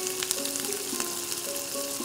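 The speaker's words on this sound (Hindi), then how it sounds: "इसमें सभी खड़े गरम मसाले डालेंगे, लौंग, इलायची, दालचीनी, तेज, सभी गरम मसाले ऐड कर लेंगे। इसे हम थोड़ा सा फ्राई होने देंगे।" Whole garam masala spices, including cloves, cardamom, cinnamon and bay leaf, frying in ghee with a steady close sizzle and light crackle, plus faint stirring taps.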